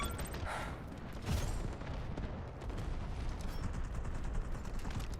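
AK-12 assault rifle fire in the shooter video game Delta Force, with dense bursts of gunshots and booms mixed with distant battlefield fire, steady and moderately loud across the stretch.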